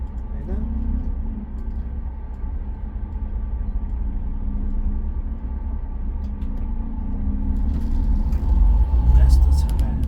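Steady road traffic near a roundabout, with cars passing in a continuous low rumble that swells slightly toward the end, and a person talking over it.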